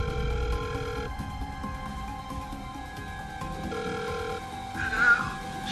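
An old-fashioned telephone rings in two long bursts separated by a pause, fairly close, over a low background hum.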